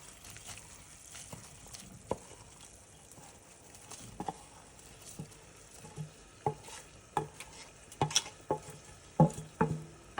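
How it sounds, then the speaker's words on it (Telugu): Vermicelli being stirred into boiling salted water for semiya upma, with quiet bubbling and scattered spoon scrapes and taps against the pot, growing more frequent and louder toward the end. "వేసుకొని కలుపుకుందాము."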